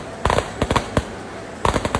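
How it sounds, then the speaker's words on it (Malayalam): Firecrackers burst at a temple festival procession in Krishnagiri, a series of sharp, loud cracks in quick clusters, some doubled, with short gaps of quiet between them. "നല്ല പടക്കമൊക്കെ പൊട്ടുന്നുണ്ടായിരുന്നു"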